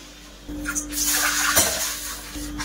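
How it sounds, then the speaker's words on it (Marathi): Water is poured into a pan of hot oil tempered with cumin, curry leaves and ground chilli, making a brief splashing rush and sizzle, close by, between quieter moments. "1 वाटी रवा आहे, 2 वाटी पाणी घालूया।"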